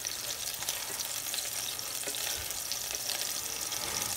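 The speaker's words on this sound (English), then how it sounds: "And yes, we smash." A meatloaf burger patty gets smashed down on a hot surface and throws off a loud, dense, continuous sizzle and spatter from start to finish. No one speaks.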